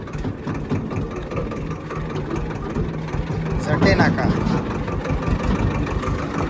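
A tractor with a trolley idles on a rough, dangerous road with a steady low rumble throughout, with people talking over it.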